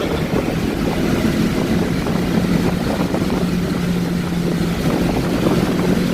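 A 1988 Volkswagen Scirocco engine drones steadily and loudly from inside the car, a continuous rumbling hum with a steady tone and no clear break between gears.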